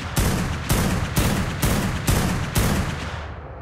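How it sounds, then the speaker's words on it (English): Six loud, evenly spaced gunshots ring out in the survival video game Ark, each a sharp blast followed by a short decaying tail, with no talk over them. "I just shoot you in the back"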